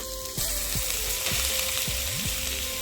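Ghee heating in a wok over a gas flame, sizzling steadily and close after a brief quieter start, with faint knocks and scrapes in the pan.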